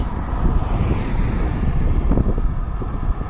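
Strong headwind roars and buffets against the microphone in a continuous, loud rush while cycling downhill outdoors.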